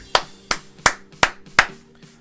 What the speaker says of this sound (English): a round of applause to the J-Dog!